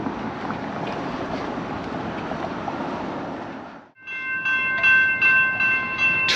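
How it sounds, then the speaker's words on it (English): A train rolls along the Seattle waterfront, a steady loud rumble that drops out briefly, then returns with bright sustained tones like wheel squeal or a distant horn over continuing rail noise. "Train coming down the waterfront."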